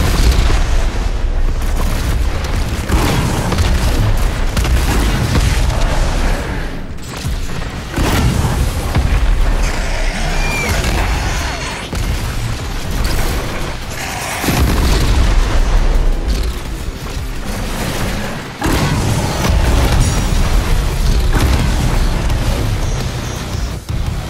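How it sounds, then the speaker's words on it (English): A Revenant's rocket barrage in DOOM Eternal, a dense, continuous roar of booming explosions that stays loud throughout with repeated heavy blasts. "rocket barrage."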